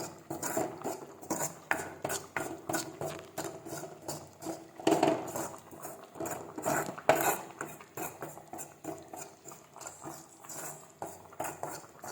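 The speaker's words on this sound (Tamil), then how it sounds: "இப்போ மசாலாவை நல்லா வறுத்துக்கணும்" Masala for a country chicken curry is fried and stirred in a pan, the spoon scraping and clinking against the metal in a steady repeated rhythm, close and fairly quiet, with no talking.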